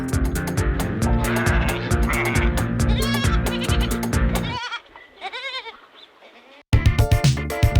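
A sheep and her lamb bleat from a farm pen in an animated nursery-rhyme scene, several wavering calls sounding after a loud stretch of cheerful music that drops away, with the music returning at the end.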